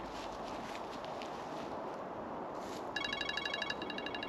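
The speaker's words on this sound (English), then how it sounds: "Just made your phone go off." A mobile phone goes off during a night churchyard investigation at St Margaret's in Great Barr, sounding as a faint, rapid electronic ring pattern that begins partway through over a quiet, hissy outdoor background and keeps pulsing to the end.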